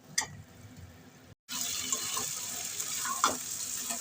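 Chili chicken pakoras tossed together in a hot frying pan with chili sauce, a bright steady sizzle with scraping stirs and a few sharp clinks of the spatula, broken by a momentary gap.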